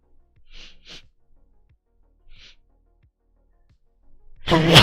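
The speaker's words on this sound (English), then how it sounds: "so I gotta sneeze" A single loud, sharp sneeze bursts out at the end, preceded by a few quiet breaths and faint sniffs in an otherwise hushed indoor room.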